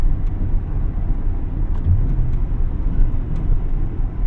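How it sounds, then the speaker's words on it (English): Inside a 1998 Acura Integra Type R, a steady low engine and road rumble drones throughout, close and continuous, with no talking. "Now I have the opportunity to drive a Type R."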